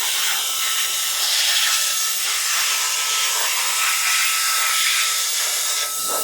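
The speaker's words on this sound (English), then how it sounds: "I've got my air blower here. We're going to go ahead and get some of this dust or whatever's in here" An air blower blasts dust out of an opened laptop, a loud steady rushing hiss that holds for several seconds with no pause and drops off briefly near the end.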